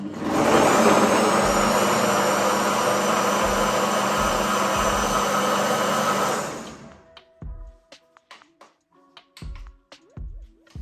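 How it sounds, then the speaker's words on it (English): A NutriBullet blender whirs loudly and steadily on low for several seconds, then stops, followed by scattered clicks and knocks of handling the machine. "And then I'm just gonna blend that low."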